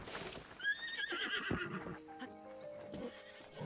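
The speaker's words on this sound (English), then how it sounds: "Yeah, I'd be scared of this horse, too. Something very wrong with him." A horse in Zelda: Breath of the Wild gives a loud, descending whinny in the game's sound, followed by snorts and some hoof clatter, up close with no talk.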